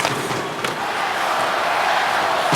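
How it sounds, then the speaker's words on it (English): A packed hockey arena crowd roars loudly and continuously during an NHL game between the New York Islanders and New Jersey Devils, a dense sustained wall of cheering with brief sharp accents. "the crowd just got on their feet and roared"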